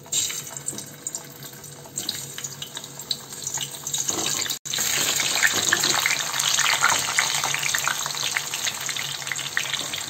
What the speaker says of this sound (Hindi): अब इसे फ्राई करने के लिए डाल देंगे